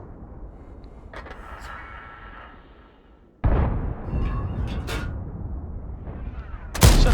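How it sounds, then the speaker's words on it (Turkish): A tank shell explosion in World of Tanks, played on a Manticore: a muffled boom that gives way to a sudden loud blast and a long rumbling roar, then a sharp crack at the end, with game voice lines over it. "Düşman vuruldu. Güzel, güzel bir patlama."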